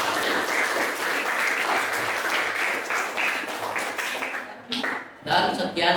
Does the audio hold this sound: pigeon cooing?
no